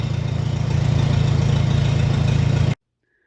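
An antique tractor engine idles with a steady low, regular chugging, loud and close, then cuts off abruptly into silence.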